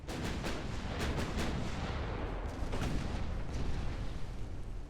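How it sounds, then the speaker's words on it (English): Naval guns firing in the naval battle game Ultimate Admiral: Dreadnoughts, a continuous stream of booming shots with several sharp bursts close together, loud and dense throughout with no speech. "2-inch guns don't have the best accuracy, but they should be firing fairly quickly"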